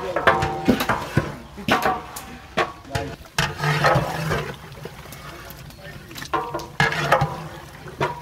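Fried chicken roast pieces being tipped into a large wedding-feast cooking pot, producing repeated clattering, sliding thuds and metallic knocks in bursts, with voices talking under the activity.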